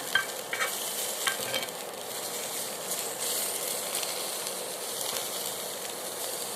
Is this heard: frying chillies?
yes